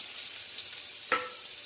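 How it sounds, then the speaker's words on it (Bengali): Cumin seeds and chopped onion fry in hot oil with a faint, steady hiss, and one sharp clink of a utensil against the pan near the middle. "তেল গরম হয়ে গেল, তাতে আমি ফোড়নে জিরে দিয়ে দিচ্ছি, চপ করে রাখা পেঁয়াজটা দিয়ে দিচ্ছি।"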